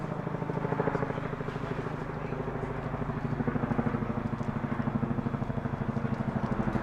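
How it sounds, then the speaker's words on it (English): A large military tandem-rotor helicopter with front and rear propellers passes over a youth baseball field, its deep rhythmic rotor thumping loud and steady throughout, with faint voices in the background. "Big helicopter flying over the field."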